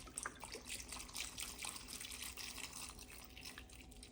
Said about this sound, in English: This is chicken broth, y'all, and we just want to cover.